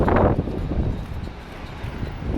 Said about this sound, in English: It'll be windy right here until I get down the hill.